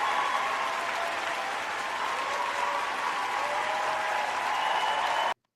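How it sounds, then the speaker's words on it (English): A talk-show audience applauds to welcome a guest on stage, with dense, steady clapping that holds evenly for about five seconds before stopping abruptly. "we want to give you a little hand clap, introduce you, bring you in the right way"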